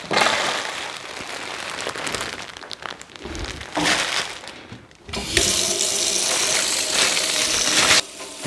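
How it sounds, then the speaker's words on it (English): Running tap water splashes over fresh parsley leaves in a kitchen sink, a steady close rush with brief breaks and crinkling as the bunch is moved under the stream. "So the first thing I'm going to do is wash these parsley leaves."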